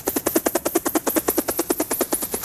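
Three helicopters circle over a village around a mosque, their rotors thudding in a fast, steady, loud chop that pulses evenly throughout.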